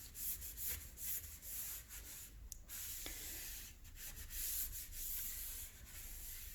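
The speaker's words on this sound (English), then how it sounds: "I get the other brush, and I just rub it in" A brush rubbing paint into the edges of furniture during a bedroom makeover, a quiet steady scratchy rubbing with short repeated strokes, close and alone.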